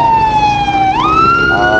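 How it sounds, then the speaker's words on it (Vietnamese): A local police car's siren in the escort convoy of the HTV Cup 2023 cycling race, Mỹ Tho to Tây Ninh stage. The siren is loud and close, with a wailing tone that sweeps upward partway through. "Xe này là xe cảnh sát địa phương"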